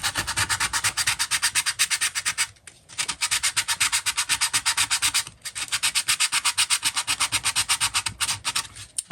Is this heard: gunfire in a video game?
no